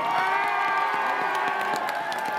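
A crowd at an outdoor New Year's Eve 2020 concert in Ascoli Piceno claps and cheers, a steady, dense mass of applause with scattered whoops sustained throughout.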